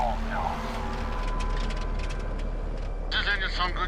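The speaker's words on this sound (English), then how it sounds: "Does this engine sound good to you?" A troubled aircraft engine drones steadily through the cabin during flight in poor weather, a constant broadband roar with voices talking over it.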